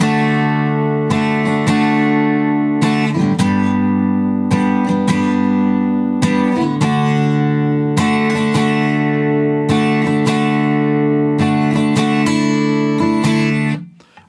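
Acoustic guitar playing the chorus of a song, a steady down-down-up strumming pattern of ringing chords, close and loud, then stopping sharply at the end, with no talking.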